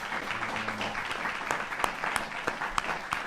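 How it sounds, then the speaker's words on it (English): Audience applause at a Hajj presentation and workshop, a steady wash of clapping from a crowd with a few sharper individual claps standing out, moderately loud and lasting the whole few seconds. "Let's give them a round of applause"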